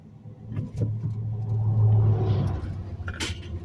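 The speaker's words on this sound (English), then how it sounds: "there's a little bit of traffic here today" Road traffic rumbles past a car on a road in Blackwater River State Forest, a brief low engine swell that builds and fades over a few seconds, followed by a short sharp click, with no talk.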